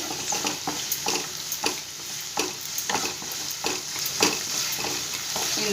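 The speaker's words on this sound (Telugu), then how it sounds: "అల్లం వెల్లుల్లి పేస్ట్ వేసుకున్నాం ఇది దోరగా వేయించుకోవాలండి" Ginger garlic paste frying in a pan, with a constant sizzle and crackle and a series of regular scraping strokes from stirring about every half second, close and fairly loud, with no talking.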